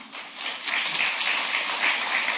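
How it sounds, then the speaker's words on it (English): Audience applause at a city council meeting during public comment, a steady wash of clapping from many hands throughout, moderately loud and without talk. "it's ideal if we don't do applause in between speakers"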